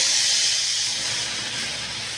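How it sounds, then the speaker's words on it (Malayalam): Onions sautéing in a pan for dal fry give off a steady, dense hiss with a faint low rumble beneath it, continuous and close throughout with no talking. "സവാള ഇട്ട് കൊടുക്കുക. സവാള വഴഞ്ഞു വരുമ്പോൾ"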